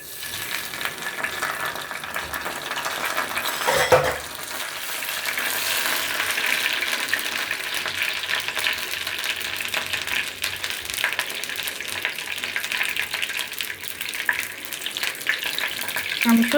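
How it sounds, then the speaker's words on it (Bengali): Bay leaves and cumin seeds sizzle hard in hot mustard oil in a kadai, a steady loud crackling hiss that holds throughout with a brief stir-like clatter near the start. "ফোড়নের জন্য দিয়ে দিচ্ছি তেজপাতা আর জিরে।"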